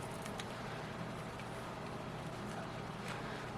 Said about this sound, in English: It's a fan. I have a fan on.